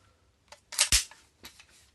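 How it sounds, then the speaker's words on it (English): Bolt locking back on an airsoft APFG MCX Spear LT rifle: a couple of quick, crisp metallic clicks and a snap, close and fairly loud, followed by a softer click in a quiet room. "You can hold this down and lock back the bolt."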